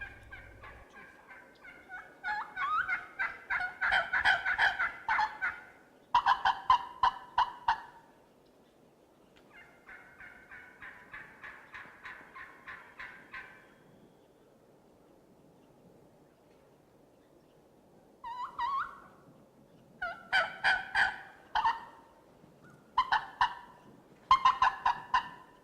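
Wild turkey toms gobble while strutting in the open during a youth turkey hunt, loud rattling bursts coming in several separate bouts with quiet gaps between them, no voices.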